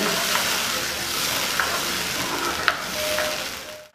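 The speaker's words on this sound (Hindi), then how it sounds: "इसको दो मिनट तक हम उबलने देंगे" Steady bubbling sizzle of prawn chilli sauce boiling in a pan with added water, continuous and close, with a couple of faint clicks over the bubbling.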